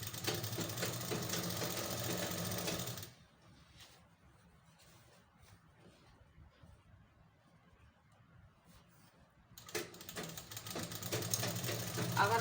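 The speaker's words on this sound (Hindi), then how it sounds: "इस तरह से किनारे किनारे सिलाई लगाते चले जाएंगे" A sewing machine stitches along the edges of palazzo pants, running steadily for about three seconds, stopping through a quieter stretch with soft handling noise, then starting up again near the end.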